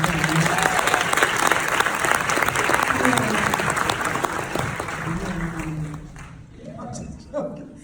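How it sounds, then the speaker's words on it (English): Applause from a premiere audience is a dense, steady round of clapping that tapers off, with a few voices heard near the end. "You guys need to clap on that."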